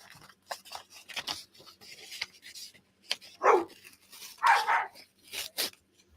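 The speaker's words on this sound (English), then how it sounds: "Wow, my dogs are like going crazy." Dogs bark from behind a closed craft room door, a small yappy one and a bigger one, in several irregular bursts that sound muffled and moderately distant amid quieter crafting noises.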